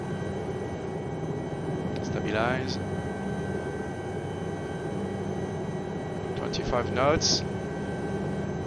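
A Lama SA315 helicopter flying in strong winds, its steady engine and rotor drone continuous throughout, with brief radio-style voice calls over it.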